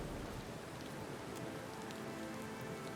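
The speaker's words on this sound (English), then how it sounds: "Clouds gather in the distance, a hazy curtain of rain hanging from them." Steady rain falls in the fantasy role-playing game Pillars of Eternity 2: Deadfire, a dense, even hiss of drops striking surfaces that continues without a break, with no talk over it.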